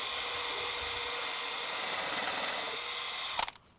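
A power drill runs steadily, driving countersunk screws into a wooden bench under construction, a continuous whirring hum that cuts off abruptly near the end.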